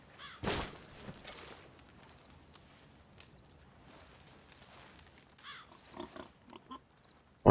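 Pigs grunt and oink in short, scattered bursts on a quiet farm in Red Dead Redemption 2, with faint bird calls between the snorts.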